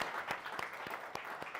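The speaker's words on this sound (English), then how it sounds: "So a massive round of applause for Doug for that accomplishment" Faint applause for an author on a live stream, a soft distant wash with a few sharper individual claps standing out at irregular intervals.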